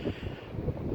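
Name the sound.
wind blowing into the microphone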